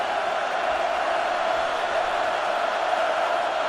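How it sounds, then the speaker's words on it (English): Steady roar of a stadium crowd at a Nebraska Huskers college football game against Oregon, urging on the home defense, a broad sustained wash of voices with no breaks across the whole stretch. "the crowd urging on that Husker defense once again after the turnover on downs"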